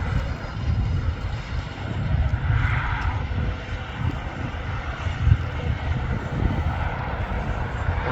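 Turkish passenger jet at Manchester Airport, a steady broad roaring engine rumble heard from a distance outdoors, with wind buffeting the microphone throughout.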